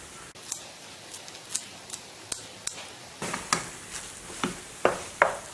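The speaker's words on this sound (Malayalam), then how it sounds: "ഇനി ഇതിലേക്ക് കുറച്ച് മല്ലിയിലൂടെ കട്ട് ചെയ്തിട്ട് കൊടുക്കാം." Fresh coriander leaves being cut for a samosa chaat, heard as a series of crisp, distinct snips or chops in an irregular rhythm, close and fairly loud over a quiet kitchen background.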